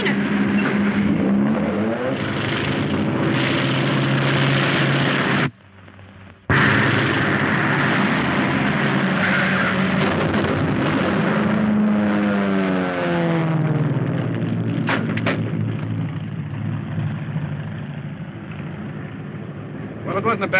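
A loud engine drone roars throughout, rising and shifting in pitch like an aircraft passing close, with a brief cut partway through and voices underneath.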